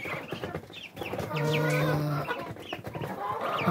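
Rhode Island chicks, a few weeks old, cluck and peep close by in a backyard farm pen, with one drawn-out call amid short chirps.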